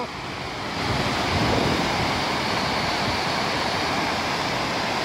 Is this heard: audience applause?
no